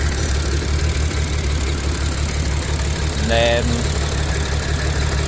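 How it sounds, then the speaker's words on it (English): An Audi V6 engine idles roughly with a misfire, giving a steady, low, shaky rumble throughout, with a short spoken word partway through. "Engine is shaking and get noisy, so there is some misfiring."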